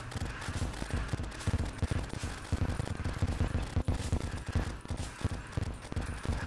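Dense, rapid bursts of cannon fire in the video game Terraria pound away continuously with heavy low thuds, a chaotic barrage of combat explosions and no talking.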